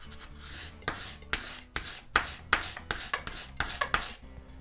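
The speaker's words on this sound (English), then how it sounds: "grab a gift card or a credit card or something similar to this and just give the top and the bottom a rub" A gift card is rubbed firmly over a vinyl decal to press it onto transfer tape, giving close, scratchy back-and-forth scraping strokes in an irregular rhythm, each stroke a short rasping burst.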